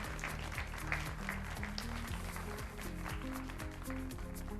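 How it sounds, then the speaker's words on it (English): An audience applauds at the close of a podcast discussion on diversity and inclusion, quiet clapping heard faintly beneath a strong low droning hum and tonal background sound. "Would you clap for these folks?"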